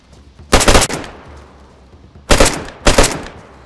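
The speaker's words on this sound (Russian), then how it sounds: "Я стреляю." Automatic gunfire in the video game DayZ, three loud close bursts of rapid shots, the first and last two separated by short pauses over a quiet background.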